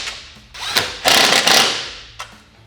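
A power tool whirs in short bursts and then one longer run while it tightens mounting hardware through the cage of a 2021+ Can-Am Commander XT 1000 during a SuperATV flip windshield install, close up with no talking.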